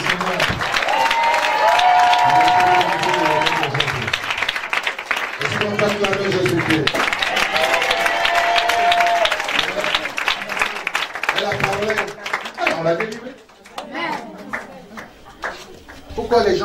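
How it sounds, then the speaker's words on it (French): A church congregation claps and cheers loudly and steadily under music with singing voices. Partway through the din drops briefly before the noise builds again. "Est-ce qu'on peut acclamer?"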